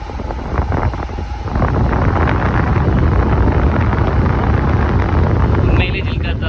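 A restored scrap-shop air cooler fan runs with wet straw pads, producing a loud, steady whooshing roar of moving air that swells slightly after the start and continues throughout.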